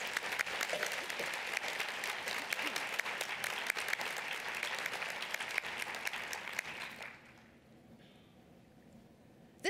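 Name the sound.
audience applause for the previous nursing board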